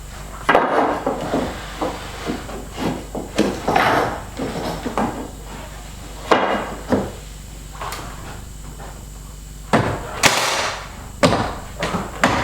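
Trim board being nailed to a log cabin wall, a series of irregular wooden knocks and thuds, some single and some in quick pairs, close by with brief background voices.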